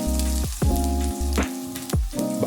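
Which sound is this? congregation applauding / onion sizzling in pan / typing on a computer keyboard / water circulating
onion sizzling in pan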